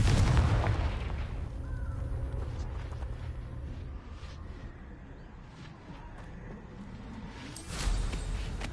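A Confringo blasting curse explodes in a Harry Potter video game. A booming blast opens the clip and fades into a rumbling tail, then another sharp burst hits near the end. No voices are heard.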